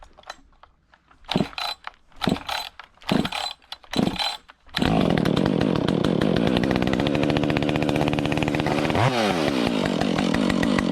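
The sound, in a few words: chainsaw with custom muffler mod running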